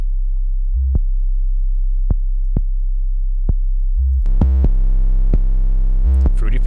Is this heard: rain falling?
no